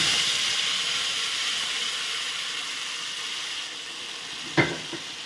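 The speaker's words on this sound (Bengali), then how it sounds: "সরষের তেলটা গরম হয়ে গেছে। তো এর মধ্যে আমি মশলাটা ঢেলে দেব।" A spice paste hits hot mustard oil in a pan and sizzles with a broad, steady hiss that fades slowly over several seconds, close by and alone, until one short clack near the end.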